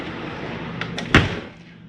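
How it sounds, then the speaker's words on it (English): A door closes inside a Jayco Eagle HT 27RS camper trailer with a single solid thud, preceded by a couple of soft clicks, close up against a low steady hum from the running air conditioner. "Let me close this door."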